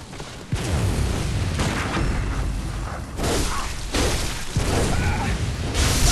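Enemy shotgun in the game Bloodborne firing several heavy, booming blasts spaced about a second apart, each a broad loud burst over a rumbling, busy game background.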